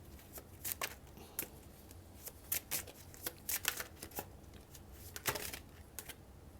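Tarot cards being shuffled close up: quiet, irregular riffling flicks and soft slaps in quick bursts, with no talk over them.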